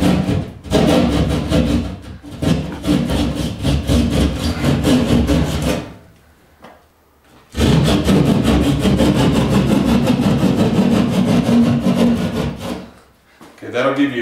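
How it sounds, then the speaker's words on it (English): A saw cuts drywall right alongside a wall stud to open a hole for a recessed can light. Loud, close, rhythmic rasping strokes run steadily, stop briefly near the middle, then resume with no voices. "so just finish your cutting"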